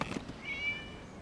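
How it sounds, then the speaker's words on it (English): A single short cat meow from the Genshin Impact video game, faint and rising, heard alone without talk. "It was just a cat."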